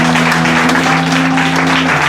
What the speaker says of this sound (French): On applaudit pour moi s'il vous plaît.